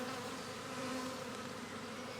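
Honeybees swarm around their comb, a dense steady buzzing drone close by and unbroken, with no voices over it.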